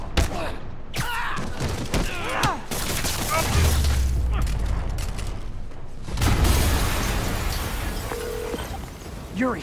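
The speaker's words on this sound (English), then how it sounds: "an explosion just..." Explosion in the Spider-Man PS5 video game, a heavy low booming blast swelling mid-clip and again later amid game effects and swooshes, with in-game voices talking around it.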